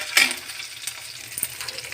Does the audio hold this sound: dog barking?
no